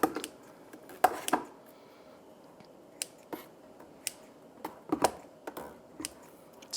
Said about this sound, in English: I just take my clean pair of kitchen shears and I go and I cut up and almost dice them